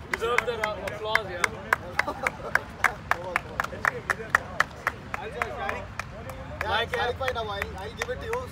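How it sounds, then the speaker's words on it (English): Steady rhythmic clapping from a small group at a cricket team cap ceremony in Munich, sharp regular claps continuing under someone speaking. "And here comes Nalan, our coach, and deserve the applause"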